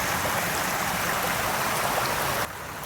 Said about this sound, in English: It looks like the water's going really, really fast down there.